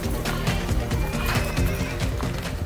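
Horses on a Sumba horse farm whinnying loudly while being herded toward their pen, with hooves clip-clopping underneath in a dense, continuous, nearby jumble of animal sounds.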